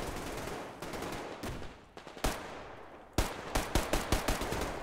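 Pistol shots fired in the Survarium shooter game, a string of sharp, loud cracks that speed into a quick volley of single reports toward the end, over a low busy game background with no talk.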